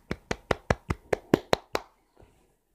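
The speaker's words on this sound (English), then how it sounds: "Claps." Nine sharp hand claps in a quick, even rhythm, close and crisp, followed by a fainter trailing clap after a short pause.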